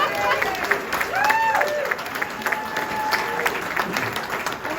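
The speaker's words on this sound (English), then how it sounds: "give him another round of applause" A crowd at a lakeside luau show gives sustained applause, with steady dense clapping mixed with scattered shouts and cheers over the whole stretch.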